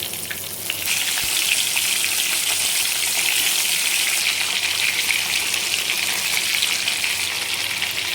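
Stuffed brinjals for gutti vankaya masala curry frying in hot oil in a pan, a steady loud sizzle and crackle that holds unbroken throughout with no voices.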